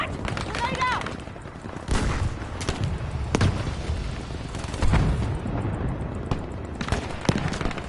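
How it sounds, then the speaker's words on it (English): Gunfire and grenade blasts from a Battlefield 5 Grand Operations match crack out as loud, scattered shots and heavy booms across the whole span. Game voices talk between the shots. "Grenade out!"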